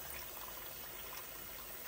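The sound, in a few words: water filling a container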